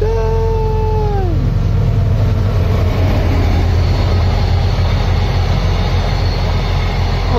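A train rumbles past close to a narrowboat near Keadby lock on a very hot day. A loud, continuous rolling roar is opened by a brief, high, falling tone.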